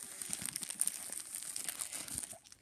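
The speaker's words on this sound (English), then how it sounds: "There's nothing special with the plastic. So, I'm just gonna take it off." Close crinkling and crumpling of plastic wrap being peeled off, a dense rustle of crackles that fades out at the end.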